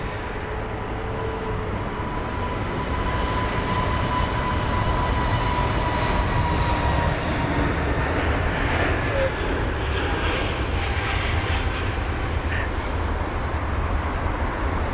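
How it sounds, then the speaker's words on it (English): An Aer Lingus Airbus A320neo airliner at London Heathrow gives a loud, steady engine roar that holds without a break for the whole stretch. "We've got the Aer Lingus 320 Neo."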